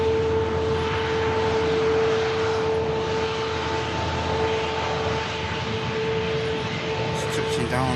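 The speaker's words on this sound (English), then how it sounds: "Super modern aircraft, 350-1000." An Airbus A350-1000 airliner at Manchester Airport gives off a steady engine roar with a faint whine, constant and fairly loud throughout.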